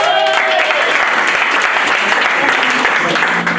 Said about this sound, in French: Applaudissements pour Joe.